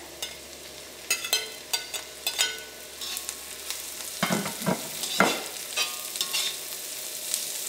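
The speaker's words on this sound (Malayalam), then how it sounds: "ഇതിലേക്ക് ക്യാബേജ് ചേർക്കാം, ക്യാപ്സിക്കം ചേർക്കാം." Cabbage and capsicum stir-frying with onion in a hot pan: a steady close sizzle with repeated scraping and stirring clatters from a spatula, no voices.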